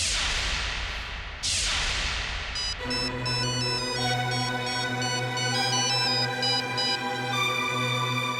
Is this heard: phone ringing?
yes